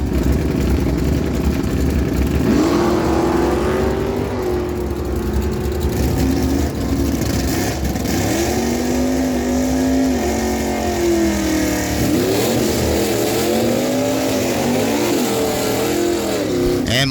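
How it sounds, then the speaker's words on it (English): At a drag strip, a 1971 Chevelle SS with a 454 and a 1968 Chevelle launch side by side, engines roaring loud and close, with rising and shifting pitch as they accelerate. "Bringing in the 71 Chevelle SS, got a 454 in that machine"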